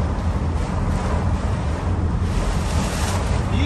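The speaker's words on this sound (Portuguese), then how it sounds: "aqui tá ventando bastante também" Strong wind buffets a car being driven in heavy rain. A dense, steady roar and hiss of wind noise fill the whole stretch, loud and continuous, with no talking.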